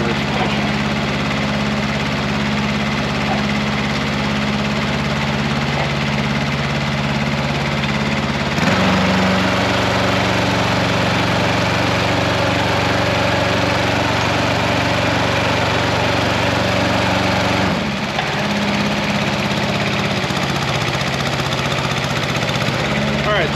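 Engine of a CMC 75L compact tracked spider lift running steadily at idle, a continuous close mechanical drone with a shift in pitch and load partway through before settling back.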